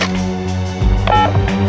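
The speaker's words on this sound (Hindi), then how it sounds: "मैं फोन करके पूछ लेती हूँ" Telephone keypad being dialed, a short quick run of tones, near and clear, alone with no talking.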